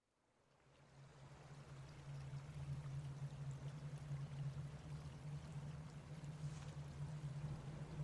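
Water flowing in a recorded landscape, a steady rushing stream that swells up from silence and stays even and moderately loud, with a low hum beneath it.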